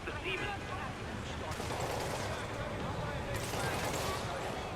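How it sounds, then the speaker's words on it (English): Gunfire in the video game Marvel's Spider-Man, a dense continuous rattle of distant shots under a steady noise bed, with brighter bursts flaring partway through. "Way too many bullets flying over there."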